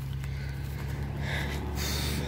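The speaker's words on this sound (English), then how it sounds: "Sorry about the sniffling and snorting and that." A few wet sniffles and a nasal snort close up, quiet and brief, with no talking.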